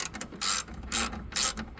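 Wrench ratcheting on the belt tensioner of a 2013 Toyota RAV4 2.5, three short bursts of rapid clicking in quick succession, close and clear with no talk.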